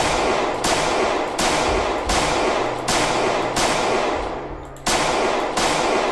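Shotgun blasts in the zombie survival game Project Zomboid, seven loud, sharp shots spaced roughly evenly about three quarters of a second apart, each with a short decaying tail, no speech.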